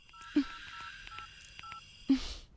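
Telephone keypad dialing tones, a short series of clear beeping tones in an even rhythm between two soft clicks, quiet and close with no talking.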